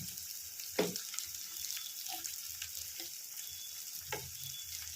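Marinated chicken hitting a pan of frying spice paste: a steady, close hiss of sizzling oil with a few soft clinks and stirring knocks, and no voices.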